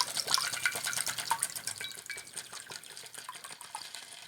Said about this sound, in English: You pour this in here, strain it in